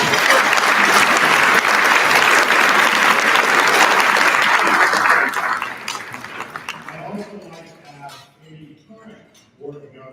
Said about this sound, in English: Let's get into a big round of applause.